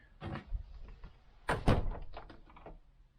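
The door of a mobile home swings shut with a few hollow thunks and rattles, a firmer knock in the middle, close and moderately soft with light room noise around it.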